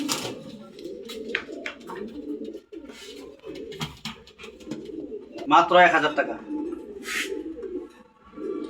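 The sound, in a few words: pigeons cooing in a loft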